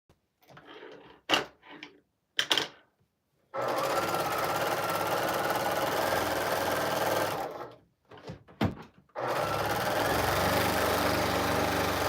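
Sewing machine stitching quilt backing, its loud, steady motor hum and needle chatter running in two long stretches, each led by short stop-start bursts and clicks, the machine rattling noisily while it sews.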